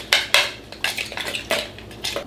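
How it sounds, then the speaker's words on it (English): A utensil clinks and scrapes against a bowl in quick, uneven strokes while chaffle batter with Parmesan cheese is mixed by hand at close range. "we're just gonna give this a mix"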